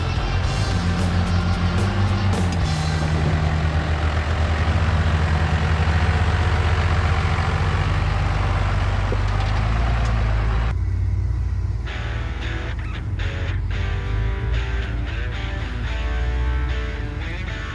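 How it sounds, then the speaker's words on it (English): A Jeep engine idles and grumbles at low revs while crawling over rocks on an off-road trail, a loud, close, steady drone with wind buffeting and a shift in tone partway through. "for our Jeeps, this trail is not that difficult, so we tried to climb every rock we could find"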